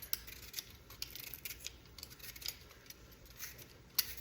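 A peeler scrapes along a sweet potato in short, quiet strokes, a faint rhythmic series of light rasps and ticks close by with a brief sharper scrape at the end.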